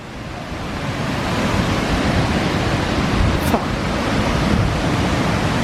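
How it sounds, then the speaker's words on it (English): Loud, continuous roar of the River Leven rushing in flood near Newby Bridge, broad and steady, with wind buffeting the microphone. "this is the River Leven in very much a flood"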